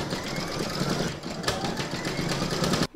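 An embroidery machine stitches the letter E of the word love on fabric held in the hoop of an in-the-hoop heart banner, giving a steady, close, continuous mechanical whir that runs without a break for several seconds before a brief pause at the end.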